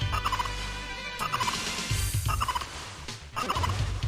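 Maria's bird attack in Castlevania: Rondo of Blood, a game sound effect of squawking, gobble-like bird cries in quick repeated bursts, loud and clear over a backing of game music.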